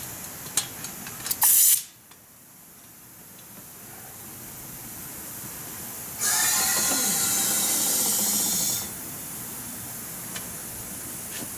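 Compressed air from a hose hissing steadily into a VEVOR 3-ton triple-bag air jack, a click and brief burst at first, then a longer, louder rush of air that stops abruptly.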